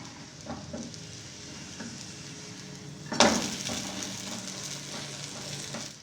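An omelette paratha fries in oil on a pan with a steady close sizzle, and one loud scrape or flip near the middle briefly sharpens the crackle before it settles back to an even hiss.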